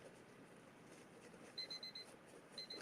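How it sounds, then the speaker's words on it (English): A kitchen timer alarm goes off, giving quiet repeated high beeps in short bursts over a dull room hiss, faint and somewhat distant. "Oh, there's the timer"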